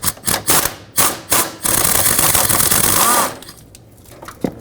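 A tool working a 10mm bolt beside the steering shaft boot of a Dodge Grand Caravan: rapid rattling bursts, then a loud sustained whirring run of about a second, then quieter scattered clicks, close up.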